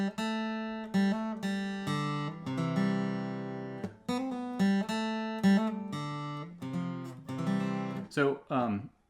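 Acoustic-style guitar plays the filler riff from a song, a run of plucked notes and short phrases with pauses between, close and moderately loud, ending in quick picked notes.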